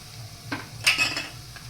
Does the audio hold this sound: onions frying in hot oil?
yes